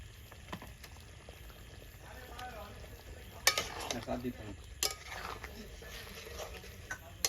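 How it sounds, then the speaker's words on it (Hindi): Chicken lollipops dropped one by one into hot oil in a pan over a clay stove, giving a steady low sizzle with a few sharper bursts and clatters near the middle. "तो अब एक एक करके डाल रहा है चिकन लॉलीपॉप।"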